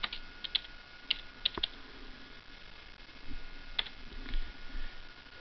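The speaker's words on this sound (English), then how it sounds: "I'm going to just type in show IP route again." Sparse keystrokes on a computer keyboard while a command is typed into a Cisco router console, a few scattered clicks over a low steady hum with no talking.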